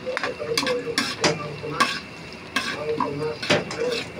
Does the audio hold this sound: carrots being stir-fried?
yes